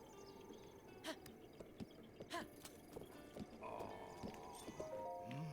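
Epona, the horse in The Legend of Zelda: Breath of the Wild, clip-clops on quiet, faint hooves and gives a whinny. Soft insect chirps and game ambience sit beneath.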